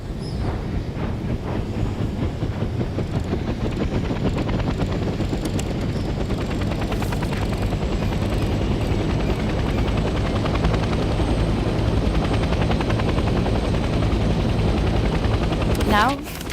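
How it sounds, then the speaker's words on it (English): A military helicopter in the Vietnam-era shooter Hell Let Loose Vietnam lifts off and hovers, its loud rotor chop continuous and steady throughout, with faint distant gunfire beneath. "The helicopter will now take off automatically and remain in a hover state."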